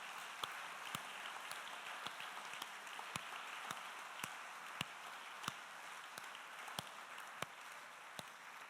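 A church congregation claps during a sermon, heard as a faint, distant, steady patter of scattered claps with a few sharper individual claps standing out above it.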